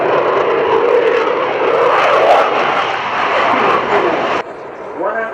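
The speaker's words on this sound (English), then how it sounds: "Eurofighter is now flying at the lowest possible speed, more or less 120 knots" A Eurofighter fighter jet in slow flight at around 120 knots at an airshow, a loud sustained engine roar that cuts off abruptly near the end, with a voice talking over it.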